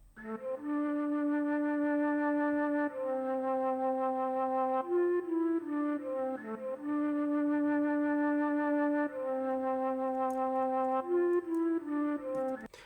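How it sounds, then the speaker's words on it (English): A breathy flute melody in a hip-hop beat plays a repeating phrase of held notes with short slides between them. It is clear and prominent, with no drums or talk. "a different instrument, and this time it was a flute."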